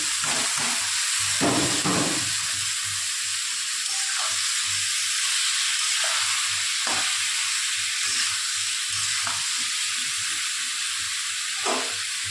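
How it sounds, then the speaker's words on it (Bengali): Diced potatoes fry in hot oil in a home pan with boiled jackfruit added, making a loud, steady, close sizzle that runs throughout, with occasional stirring scrapes. "এবার আলু ভাজা ভাজা হয়ে গেল। এবার আমি সিদ্ধ করে রাখা এঁচোড়টাকে এর মধ্যে দিয়ে দেবো।"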